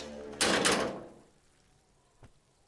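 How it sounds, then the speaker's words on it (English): A container in a video game gives a single dull, muffled metallic thud with a short ringing decay, followed by a faint knock. "The container sounds a muffled gong."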